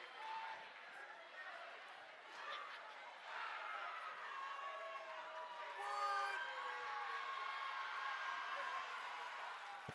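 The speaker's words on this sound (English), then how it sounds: "Crowd is fired up after that throw here." Crowd at a women's college wrestling dual meet cheering and whooping after a big throw, a sustained swell of voices with some shouts rising midway, heard at a moderate distance.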